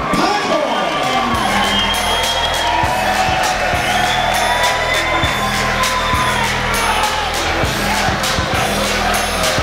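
Crowd at a Muay Thai title fight cheering and whooping continuously, loud and dense, with sharp thuds and slaps cutting through the roar.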